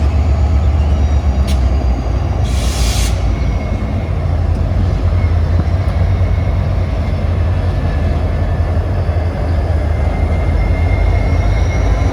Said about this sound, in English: These two units, MNBR 3064 and AGR 3411, are the locomotives in charge of today's train.